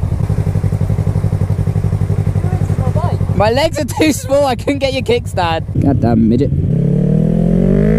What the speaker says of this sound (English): My bike's not that loud, still got a baffle in.